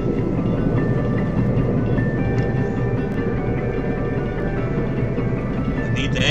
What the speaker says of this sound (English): I'm testing a train going through the mountain over there.